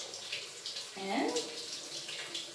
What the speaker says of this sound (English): we're gonna rinse our hands and wrists thoroughly under the running water.